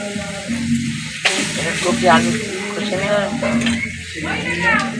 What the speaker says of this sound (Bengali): ভালো করে নেড়ে চেড়ে মশলাটা ভেজে নেব